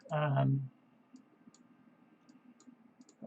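A computer mouse gives several faint, sparse clicks spaced irregularly, following a brief moment of someone talking at the start.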